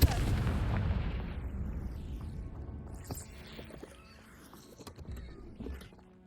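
A Confringo fire spell blasts in the Hogwarts Legacy video game, a loud booming explosion that rumbles and slowly decays over several seconds, with scattered crackles and debris sounds trailing off afterward.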